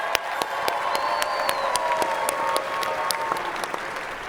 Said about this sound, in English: let's give a big round of applause to our honorary team captain